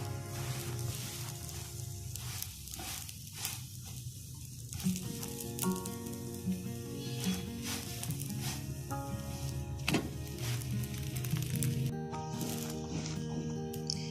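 Halved burger buns toasting on a pan, with a continuous close sizzle, occasional scraping, and a shift midway into a steadier frying hiss with faint tonal sounds in the background.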